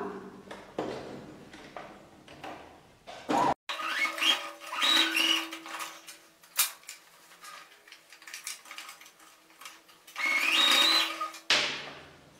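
A sewing machine runs in several bursts, stitching both sides of a doll-shaped bag, its motor whirring and rattling close by with a higher whine, separated by short pauses and handling clatter.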